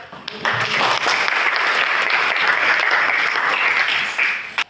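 Classroom applause from a group of students, steady and dense clapping filling nearly five seconds at close range before stopping abruptly.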